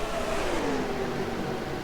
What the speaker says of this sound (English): You can just hear the screaming in these cars though